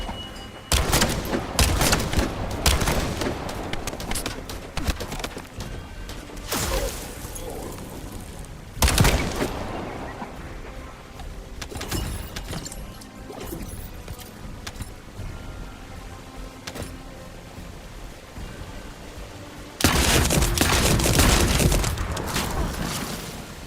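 Gunfire in The First Descendant, a sci-fi shooter game: dense bursts of rapid automatic shots and booming impacts come in loud clusters, with louder volleys near the start, around nine seconds and again toward the end.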